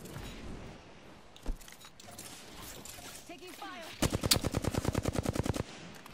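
Gunfire in the Apex Legends video game, a few scattered shots followed by a rapid burst of automatic fire with evenly spaced cracks, loud and close, with a voice talking in the background.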